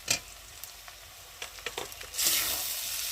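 Spices with a tomato frying in a pan for a Bengali lota fish curry, brief stirring scrapes and taps followed by a sudden loud burst of sizzling, close and without talk.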